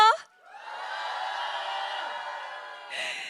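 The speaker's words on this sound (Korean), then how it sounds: "자, 다시 한번 응원의 함성 보내주세요." A crowd at a K-pop album showcase lets out a sustained cheer that swells for a couple of seconds, with a brief voice at the start and another rising at the end.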